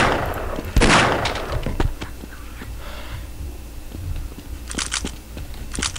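Shotgun fire in the video game Half-Life, a loud sharp blast near the start followed by scattered thumps, clicks and impact sounds from the game.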